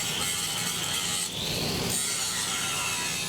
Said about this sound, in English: The ditch side welder grinds his final tie-in and prepares for the next weld.